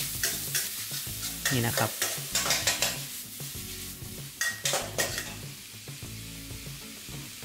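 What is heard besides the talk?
minced pork being stir-fried in a pan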